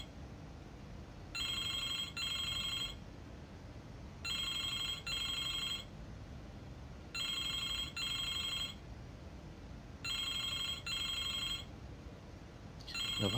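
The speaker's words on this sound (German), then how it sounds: "Das Telefon." A telephone rings in the video game Broken Sword 2: four evenly spaced double-burst rings, loud and clear over a quiet background with no talk.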